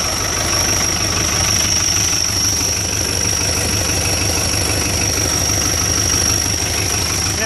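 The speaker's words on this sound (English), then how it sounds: "I borrowed this 1977 Fiat 780, 80 horsepower tractor" A 1977 Fiat 780 tractor with an 80-horsepower diesel engine idles loudly and steadily, a close, heavy low rumble with a faint knock and a constant high whine over it, and no talking.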